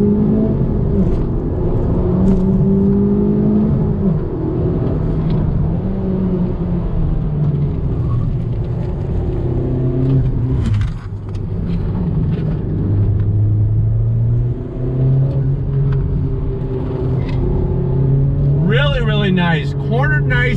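A used Honda Civic Type R on 18-inch wheels pulls steadily on throttle while cornering, its engine note a continuous mid-level drone rising and shifting in pitch through the run, heard from inside the cabin with a brief change near the end.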